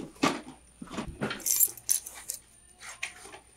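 Old coins and keys from a safe in an abandoned storage container jingle and clink in short bursts, shaken and rattling against each other, with pauses between handfuls.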